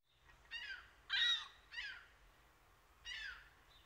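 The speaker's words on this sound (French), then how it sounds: "Sur Jean Talon, un goéland passe au-dessus de ma tête." A gull flying overhead above Jean Talon street in Montreal gives four harsh, strident calls in quick succession, clear and fairly close over faint background hum.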